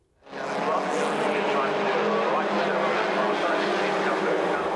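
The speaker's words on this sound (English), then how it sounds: "the Rebels are powered by 850cc Reliant engines that have been reworked to give about 64 brake horsepower" Rebels stock cars with reworked 850cc Reliant engines of about 64 bhp, steel chassis and fiberglass 1947 Ford Popular replica bodies, racing in a loud, steady engine roar that rises quickly from quiet and holds on, with engine noise dense throughout.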